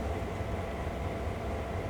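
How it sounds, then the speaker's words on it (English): A train moving through a rail yard in Train Sim World 2, a steady low rumble with continuous wheel and engine drone, no voices. "So since my theme is simulation, I thought we'll try simulating a train."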